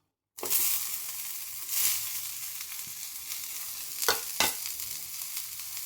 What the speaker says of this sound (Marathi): तर कांदा भाजून घेऊ.